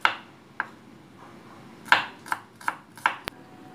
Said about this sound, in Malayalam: ഈ ഉള്ളി നമുക്ക് ചെറുതായിട്ട് അരിഞ്ഞു കൊടുക്കണം.